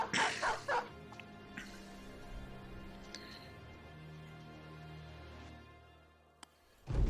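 Dogs unleashed in the video game Battle Brothers bark and yip in a quick burst at the start, followed by quieter game ambience and a brief sharp sound near the end.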